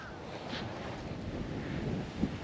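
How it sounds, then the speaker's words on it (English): Gusty wind buffets the microphone on a hilltop hiking trail in central Florida, a steady broadband rumble with a brief stronger gust near the end, no voices. "It's actually getting really windy."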